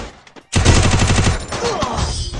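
Rapid automatic gunfire from a Free Fire match rattles loud and close in a sustained burst of evenly spaced shots, then continues a little more raggedly toward the end.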